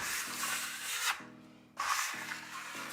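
Théard Squaliss smoothing blade scraping across plaster filler in repeated rasping strokes, with steady low rubbing passes broken by a brief quiet pause midway, close and alone.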